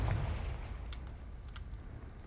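A Confringo fire-blast spell cast in the game Hogwarts Legacy, a heavy low rumbling blast at the start that trails off into a lingering crackle with a couple of brief sharp flickers.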